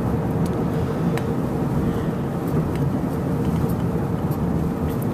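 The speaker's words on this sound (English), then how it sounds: "Just gonna keep driving" A car is driven along with a steady, loud low road and engine rumble and no breaks, heard from inside the cabin.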